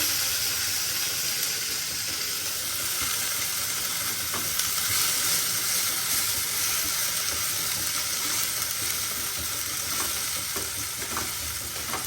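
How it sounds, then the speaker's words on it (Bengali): Leafy greens fry in hot oil in a pan with a continuous dense sizzle and crackle, close and steady throughout, with faint stirring noises underneath. "শাকগুলো ভেজে নিই, তারপরে মশলা দেবো"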